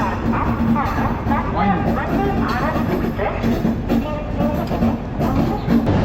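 Coromandel Express train rolling out of Howrah station, with dense, continuous rumble and rattling wheel noise throughout. Voices and other carriage sounds blend into the steady din.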